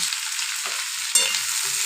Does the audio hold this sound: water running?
no